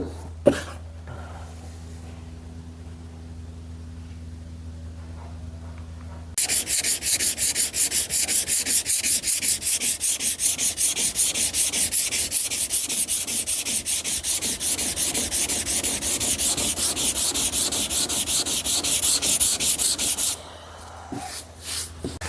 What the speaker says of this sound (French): Donc on se le ponce et on voit ça.